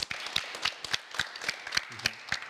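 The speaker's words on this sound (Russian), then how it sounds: "Аплодисменты." Brief, fairly quiet applause from a small audience, a spaced patter of individual claps lasting a couple of seconds.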